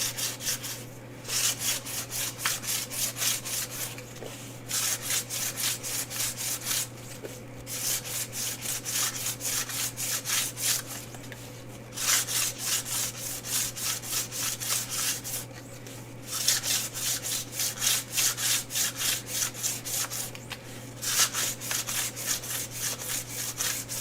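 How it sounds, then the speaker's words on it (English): Sandpaper rubs back and forth across a cured resin painting in steady rhythmic strokes, broken by brief pauses, close and fairly quiet. "So flip your sandpaper to a clean spot and under."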